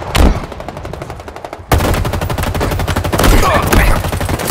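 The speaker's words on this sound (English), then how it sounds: "who the hell's shooting at me?" Rapid automatic gunfire from Halo Infinite multiplayer close-quarters combat, a dense rattling burst that starts mid-clip and keeps going loud and steady, with a shot or two before it.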